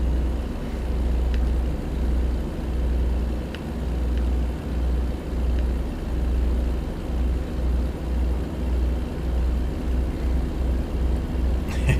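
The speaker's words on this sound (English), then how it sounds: "it's a little bit entertaining right now to hear this truck struggling while going like 25 miles an hour" A truck's engine strains at low speed, around 25 miles per hour, with a deep, pulsing rumble that throbs unevenly and continuously, heard alone from inside the cab.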